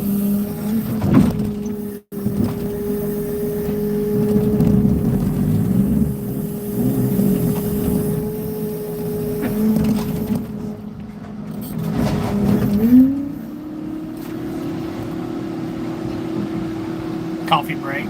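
A heavy car-crushing machine works on the front half of a car, a loud continuous mechanical drone and hum with a pitch shift partway through and occasional knocks and bangs.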